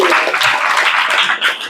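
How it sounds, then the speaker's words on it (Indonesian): Applause from a classroom group, steady broadband clapping of many hands sustained throughout, fairly loud and close, with no talking over it. "Tepuk tangan buat Baika."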